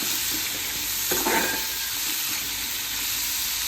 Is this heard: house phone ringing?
no